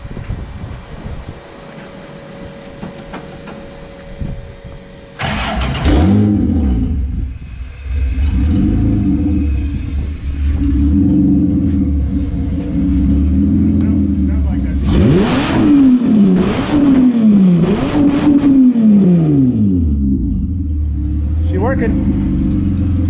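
Honda J35 V6 with VTEC in a sand rail at Glamis starts after a quiet stretch, then idles loudly and is revved several times in rising and falling sweeps, close by, with voices talking over it.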